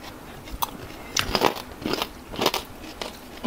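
Crisp bites into deep-fried, boned fish fillet, eaten bones and all, giving several sharp crackling crunches in quick bursts, close and clear with no talking.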